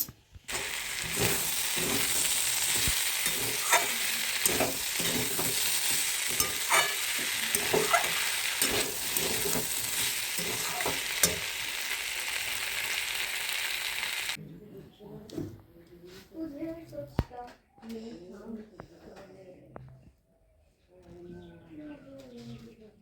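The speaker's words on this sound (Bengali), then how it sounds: "এখানে হচ্ছে কুমড়ো ভাজা" Pumpkin slices frying in a home kitchen pan, a loud continuous sizzle with scraping and stirring clatter that cuts out abruptly partway, leaving quieter kitchen sounds and someone talking.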